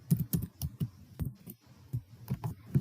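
Typing a spreadsheet formula on a computer keyboard, a quick irregular run of close soft key clicks with brief pauses, alone with no speech.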